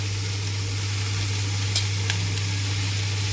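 Tomato chutney with salt and red chilli cooking in a pan, a steady close hiss of sizzling over a strong low electrical hum, with a few faint clinks.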